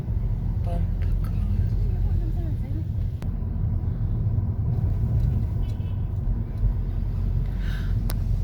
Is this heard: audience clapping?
no